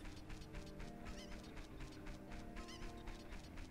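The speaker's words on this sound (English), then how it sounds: "I remember it was that last cuckoo that I had trouble with." Cucco chickens in Zelda: Ocarina of Time on the N64 give repeated clucks and squawks in quick bursts, busy and layered over game sounds at moderate volume.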